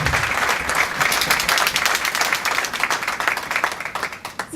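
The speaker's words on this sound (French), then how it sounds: "Et on applaudit." Dense, steady applause from a Toastmasters evening audience, many hands clapping loudly and close, with the rattling claps thinning slightly toward the end.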